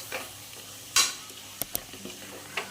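Quiet sizzling of tomatoes frying in a pan, broken by a few sharp clinks and scrapes of a utensil stirring, close by.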